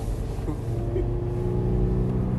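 A race car powers along the track during an SCCA time trial at Hallett, run counterclockwise. The engine drone heard from inside is loud and sustained, and a faint voice may come through beneath it.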